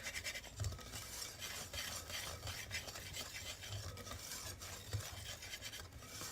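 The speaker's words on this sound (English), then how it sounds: "So we're just going to mix this up real quick." A spoon stirs a savory biscuit mixture with marjoram and sage in a bowl, giving quiet, continuous scraping and rubbing with soft periodic knocks against the side.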